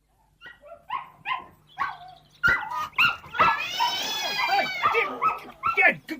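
In a dramatized audiobook of an Enid Blyton children's mystery, a dog barks in a wild commotion, with sharp yips, then loud overlapping barks and yowls building into a close, noisy burst. Voices mix into the racket.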